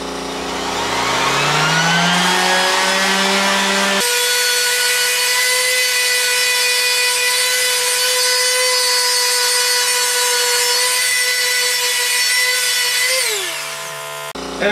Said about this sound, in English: when you're sanding, people tell you usually to keep your sander flat so you're not putting dips in